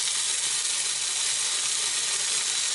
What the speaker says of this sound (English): oh man, that sizzle is so good